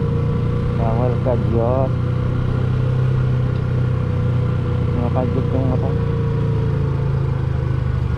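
A motorcycle engine hums steadily on a steep, muddy uphill road, holding a constant mid-pitched drone throughout while someone talks over it.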